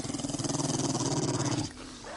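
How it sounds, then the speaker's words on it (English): A zombie dog in The Walking Dead video game growls, a loud, low, pulsing rumble that rolls on steadily for over a second and a half before cutting off abruptly. "every time I hear that zombie growl, that dog growl, it freaks me out"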